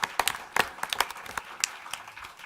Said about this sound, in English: So just a quick round of applause, even though she's not here.